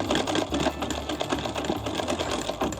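A vintage sewing machine stitches a seam with a fast, steady mechanical whir and rhythmic clatter, close up and continuous with no talk.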